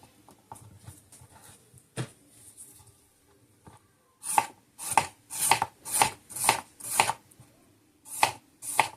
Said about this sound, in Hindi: तो इसको भी हम जिस तरह ग्रीन को काटा है इसी तरह इसको भी काट लेते हैं।